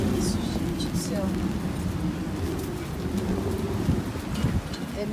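Strong wind and rain lash a heeling sailboat during an Adriatic storm, a steady roaring rush with broadband noise and low rumble throughout, no voices heard.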